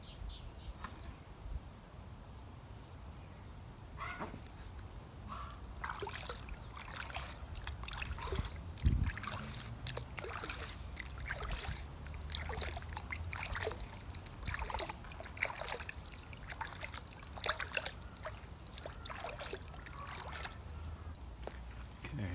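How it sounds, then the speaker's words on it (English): Water rinsing 20-year-old swimming pool tiles after a mosaic tile cleaner, a continuous low splashing wash with scattered faint clicks and trickles at steady moderate loudness. "About 3 minutes, I'm just going to rinse it."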